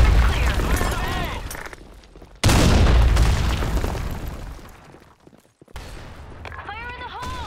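Gunfire and a loud grenade blast in a shooter video game. The explosion booms suddenly partway through and decays slowly, with shots crackling around it and voices calling out in between.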